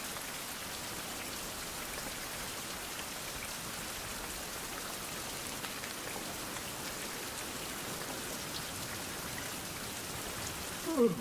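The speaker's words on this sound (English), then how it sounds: "It depends on how long it rains for." Steady rain falls in a survival video game as a dense, even hiss of drops on surfaces. It runs unbroken and moderately loud for over ten seconds, with no talking and a small knock at the very end.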